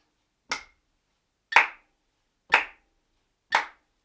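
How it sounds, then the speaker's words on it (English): Four single hand claps, crisp and evenly spaced about a second apart, keep a steady crotchet beat for a rhythm exercise, each one alone against silence. "Here we go, just clapping crotchets."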